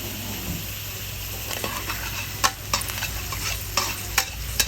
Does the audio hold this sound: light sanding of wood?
no